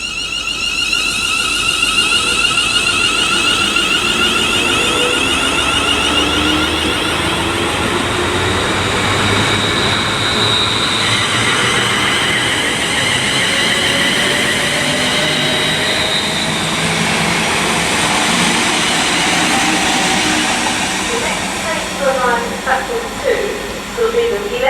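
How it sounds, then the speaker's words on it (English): A train leaves Birmingham International station on the West Coast Main Line toward London Euston, a loud, steady rumble and hiss of wheels and motors that goes on throughout, with faint squeals near the end. "departing as well is the 11:28, heading to London Euston"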